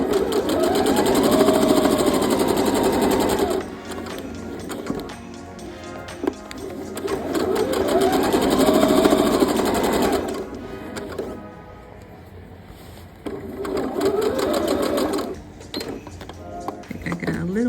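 A sewing machine stitches layers of denim for a dress, running in three loud bursts of rapid rhythmic whirring separated by short pauses, with quiet handling noises in between.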